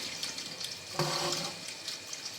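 Beer wort for an all-grain summer ale drains and splashes into a fermenter, a steady watery trickle that swells into a louder, fuller gush midway, close and without talk.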